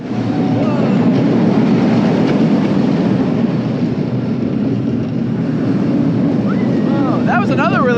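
A long roller coaster train rolling along its track at Adventureland on Long Island, New York, a loud, steady rumbling roar close by, continuous throughout, with faint squeals near the end.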